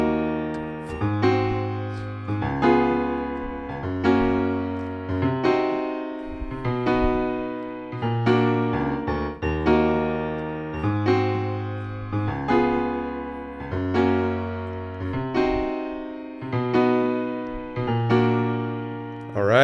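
Piano playing the intro of a song at a slow tempo, clear repeated chords and bass notes in an even rhythm, with no voice over them.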